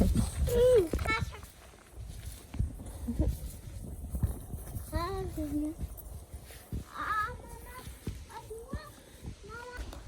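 Horse hooves clop unevenly on hard ground in a village, close by, while children and adults talk and call out over them.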